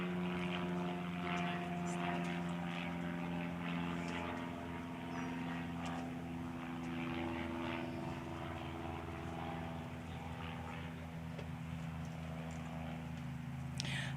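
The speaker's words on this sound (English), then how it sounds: "I'm not going to compete with that airplane" A propeller airplane drones steadily overhead outside a Concord, Massachusetts town meeting hall, a continuous low engine hum that holds for the whole stretch with no speech over it.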